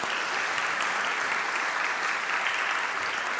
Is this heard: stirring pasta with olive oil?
no